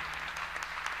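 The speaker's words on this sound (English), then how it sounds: "Let's give Jesus another hand clap of praise in Jesus' name." Steady applause from a church conference crowd, dense and sustained, with no voices standing out.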